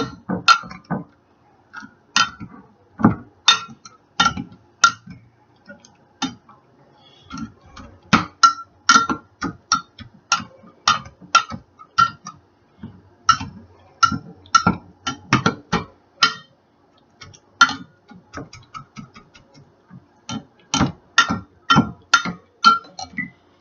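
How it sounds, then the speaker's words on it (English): Cooked apples, some cooked in sugar, being mashed for applesauce, giving rapid irregular clinking taps of a utensil against a pot or bowl, close and sharp, repeating throughout with short pauses. "we're going to start mashing these"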